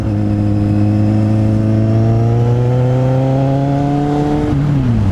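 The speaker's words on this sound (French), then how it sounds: "Là, je la vois, donc là, j'accélère." A Kawasaki Z800e motorcycle accelerating out of a bend, its engine note rising loud and steady as the revs climb, then briefly dipping at a gear change before pulling again.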